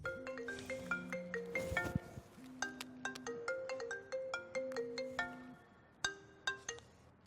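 A phone ringtone plays a bright, bell-like melodic pattern of repeating chiming notes, clear and alone, looping several times before stopping with a few isolated tones.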